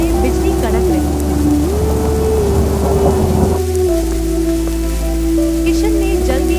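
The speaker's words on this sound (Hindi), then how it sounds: "बारिश अब तेज होने लगी। आसमान में बिजली कड़क रही थी।" Heavy monsoon rain pours steadily in a village by a river, a dense close hiss with low rolling thunder rumbling beneath and a tonal music line running through it.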